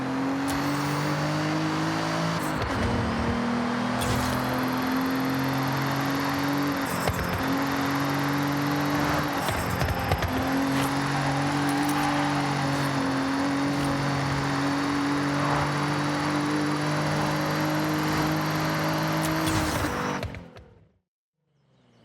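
A turbocharged car engine in a racing video game pulls hard and steadily for about twenty seconds, its loud droning tone holding high revs with brief shift dips, then cuts off abruptly into silence.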